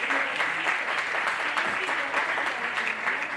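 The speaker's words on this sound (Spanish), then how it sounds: "Otro aplauso para la Fundación del reconocimiento." An audience applauds the Fundación del Málaga Club de Fútbol at a mental-health awareness event, with a continuous wash of hand claps sustained at even loudness throughout.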